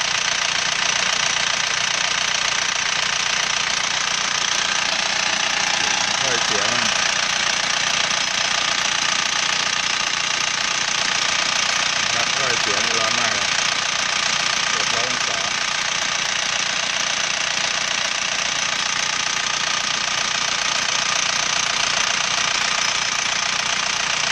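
An original-engine Isuzu TFR runs steadily, with a constant mechanical drone and rattly, knocking texture heard close and loud throughout, with brief murmurs of voice passing faintly under it.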